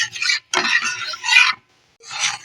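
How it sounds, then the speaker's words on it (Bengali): A spoon scrapes and stirs sago papad dough and water in a pot on a gas stove, sounding as three close, rasping strokes with short silent gaps between them. "এইভাবে কিন্তু অনাবরত নাড়তে থাকতে হবে"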